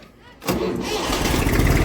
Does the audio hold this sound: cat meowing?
no